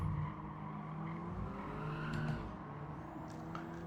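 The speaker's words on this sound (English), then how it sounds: "and squealing tires" A 2022 Honda Civic Type R races at Autodrome Lago Maggiore Center. A steady engine drone is overlaid with brief, high-pitched tire squeals as the car corners.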